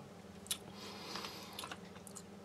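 Close, soft chewing and biting of caviar, a beef meatball and a crunchy biscuit from a Russian ration menu, with a sharp bite near the start followed by moist, squishy mastication.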